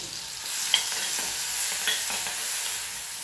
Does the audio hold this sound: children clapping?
no